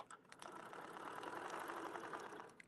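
A sewing machine stitching down fabric, a steady close mechanical whirr with rhythmic needle clatter that starts after a brief click and runs continuously, with no voices.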